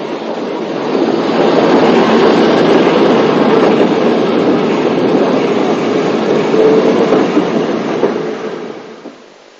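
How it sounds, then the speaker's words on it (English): Steam locomotive 45479 shunting in a busy goods yard at the principal port for the Isle of Skye, around 1960 to 1962, a steady loud rumble of wagons and engine lasting throughout, with no speech. "45479 is seen shunting the busy goods yard, the principal port for the Isle of Skye"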